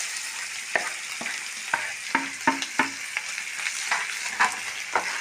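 A spatula stirs wilted okra and fried egg in a hot frying pan for a Kerala-style thoran. Soft sizzling runs underneath, with repeated scraping strokes at an uneven rhythm, heard close up.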